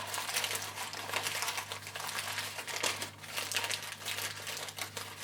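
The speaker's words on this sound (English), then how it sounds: "This white paper is quite sturdy paper, but the maroony colour is a little bit softer" Paper being crinkled and shaped while making paper flowers from sturdy white and softer maroon paper, a continuous close rustling and crackling with small irregular crunches and no talking.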